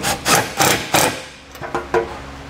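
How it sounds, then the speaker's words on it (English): Nuts being run onto the studs of a trailer hitch receiver on a 2020 Ford Explorer, a series of about six sharp metallic taps and clicks in uneven rhythm, close and loud. "those nuts that we had left off, we can go ahead and put those back on and just run them down"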